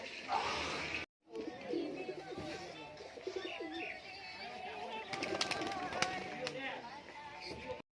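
Kamagar pigeons coo softly in a loft amid a busy, noisy background with occasional sharp clicks and rustling.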